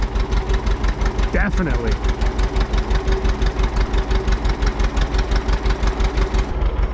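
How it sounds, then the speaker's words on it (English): A 2-cylinder John Deere tractor idles nearby with a loud, steady, lopsided putt-putt pulse, and someone speaks briefly over it. "A 2-cylinder John Deere just sounds so nice to me"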